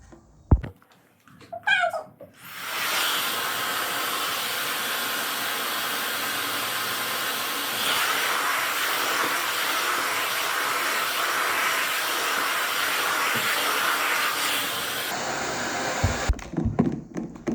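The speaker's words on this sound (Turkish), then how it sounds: "İndi saçımı fönlüyoruz." A hair dryer blows steadily and fairly close for over ten seconds, a constant airy whoosh, with faint shuffling before it starts and after it stops.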